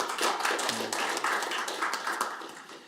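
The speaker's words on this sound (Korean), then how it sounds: "우리 이상민 의원님께 박수 한번 좀 보내주시기 바랍니다." Audience at a Korean policy forum on fiscal reform claps for a lawmaker, a steady spread of hand claps at moderate level filling the room for about three seconds.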